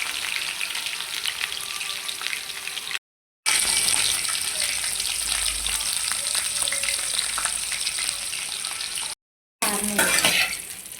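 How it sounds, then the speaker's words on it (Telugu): Bitter gourd pieces deep-frying in oil in a pan and being turned from side to side: a loud, steady close-up sizzle with scraping stir sounds, broken by two brief silent gaps. "ఫ్రై చేసినప్పుడు తిప్పి అటు సైడ్ ఇటు సైడ్ పెట్టాలి"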